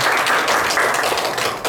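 Audience clapping for photographers at a political school lecture in Nowon, dense steady applause filling the short moment without pause.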